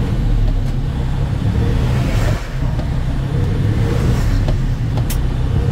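A truck engine with an Eaton Fuller 10-speed transmission, gears floated without the clutch, rumbling steadily and close with slight rises and dips in revs.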